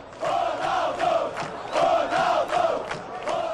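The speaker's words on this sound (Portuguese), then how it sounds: "A torcida gritou o nome dele e gostou da estreia." Football supporters in a stadium chant a goalkeeper's name (Ronaldo, at a Fluminense debut) in rhythmic, swelling waves, a loud massed roar of voices rising and falling several times.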